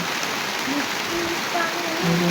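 Rainwater falls in a steady, even hiss of rain pattering on surfaces, with faint voices in the background.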